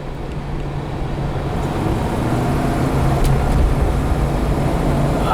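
A 1992 Ford Bronco 4WD, once a police captain's lightly worn personal vehicle, cruises down a road with a steady low engine and tire rumble from inside the cabin, fairly quiet and even throughout.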